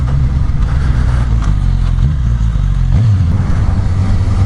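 Steady, loud drone of a 2015 Suzuki GSX-S1000 motorcycle on the road, with a low rumbling exhaust and induction roar, rising briefly in pitch near the end as the throttle opens.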